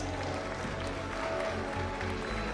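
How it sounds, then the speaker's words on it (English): A crowd at a Tekken 8 esports tournament applauds steadily, dense clapping and cheering filling the hall at moderate loudness throughout. "can I have a round of applause for Hafiz?"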